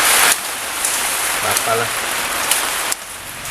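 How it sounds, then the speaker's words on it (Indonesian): Rain falling in a steady, dense patter during outdoor cooking, loud and continuous throughout, with a brief spoken word partway through. "Sama hujan nih, Hujan."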